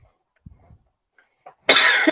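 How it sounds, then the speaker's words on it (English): A single person gives one sharp, loud cough near the end of a quiet moment on a live stream, preceded by faint small noises. "Man, I got a cough"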